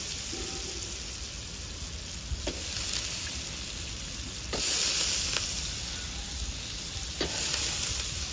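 Potatoes fry in hot tempering oil for a Punjabi bhurji, a soft, even sizzle and hiss that holds steady, with a few faint stirring clinks and a slight swell midway.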